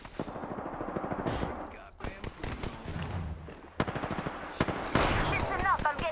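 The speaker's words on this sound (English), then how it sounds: "Listen up, I'm getting shot at." Rapid automatic gunfire in Apex Legends comes in dense bursts and single sharp shots, loud and close, with brief in-game voice callouts mixed in.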